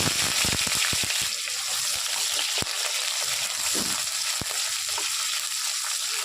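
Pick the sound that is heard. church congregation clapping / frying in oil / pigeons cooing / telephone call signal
frying in oil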